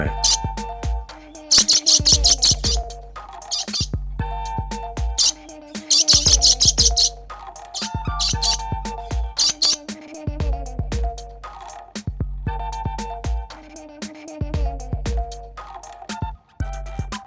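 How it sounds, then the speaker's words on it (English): A parrot gives repeated loud, harsh, squawking calls in bursts, with sharp chirps and short pauses between them, close and clear with no talk. "Parrot."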